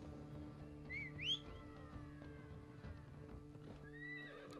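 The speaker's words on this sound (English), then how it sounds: "Yeah, I have a horse that just appears out of nowhere." A horse in Valhalla gives a loud whistling whinny, then hooves clip-clop in a steady walking rhythm over a low ambient game background.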